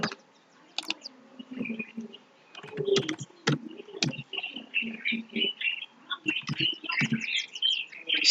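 Someone types on a computer keyboard in sparse, uneven bursts of crisp clicks with short pauses between them, set against a quiet room.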